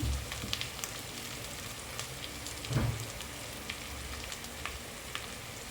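Pieces of goat head frying in a pan, a steady close sizzle with crackling spatters and one louder stir or shift midway.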